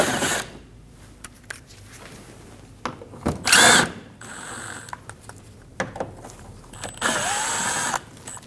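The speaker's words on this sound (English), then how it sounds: "We're going to use a T25 bit and we're going to remove the 3 screws." Power driver with a T25 bit backing out three screws from the underside of a 2012-2022 Volkswagen Passat front bumper corner, short whirring bursts, one louder, separated by quiet handling noises and clicks.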